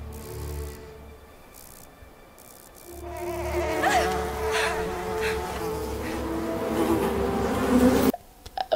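Buzzing swarm of bees in a TV drama scene, a dense insect drone that swells for several seconds over low rumble and score before cutting off abruptly.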